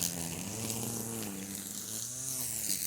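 Bees buzzing in a backyard bee yard, a dense, close, steady drone of many wings with shifting pitch, no voices.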